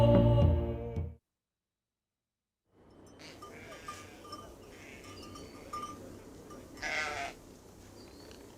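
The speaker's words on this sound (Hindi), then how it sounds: "अलीआज़र, गर्शोम, बकरियों को इकट्ठा करो, हम घर वापस जाएंगे।" A herd of goats bleats outdoors in a drama set in biblical times. A loud, close cry comes first, then a pause, and then a grazing herd with scattered bleats, faint clinks and one louder call under a low ambient rumble.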